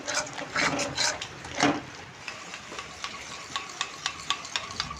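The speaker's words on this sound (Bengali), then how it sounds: "আমার এই মশলাটা যতক্ষণ তেল না ছেড়ে উঠবে ততক্ষণ আমি কষাতে থাকবো।" Spice paste for a Bengali doi katla fish curry being stirred and fried in oil, with a spoon scraping the pan in repeated close strokes over a soft, steady sizzle.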